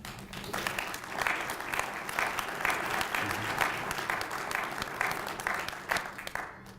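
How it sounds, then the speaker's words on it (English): A crowd at a new hires and promotions ceremony claps in a dense, continuous round of applause that holds steady for several seconds before tapering off. "So give yourself a round of applause"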